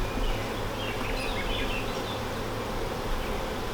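Honeybees at a newly set up hive drone in a steady, close, continuous buzz after the queen is released back inside, with no talk over it.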